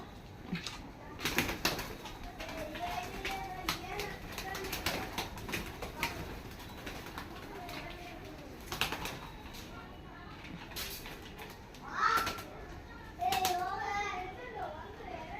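Soft cooing from pet pigeons at home rises and falls at intervals beneath children's voices and chatter, with bursts of clatter and wing flaps nearby.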